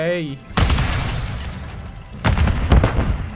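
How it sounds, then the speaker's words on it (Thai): Two heavy grenade booms in Call of Duty: Modern Warfare III, one early and another near the end, each with a bright crackling burst over rumbling low end, amid constant battle noise. "ขยันโยนระเบิดกันเนาะ"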